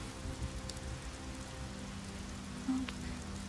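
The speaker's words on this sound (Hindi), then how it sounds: "अब वो बारिश जो सूखे के बाद आती है।" Rain falls steadily in a soft, even patter with a low rumble underneath and a faint, brief tone near the end, with no voices.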